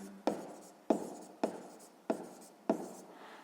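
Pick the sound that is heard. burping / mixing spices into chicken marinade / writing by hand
writing by hand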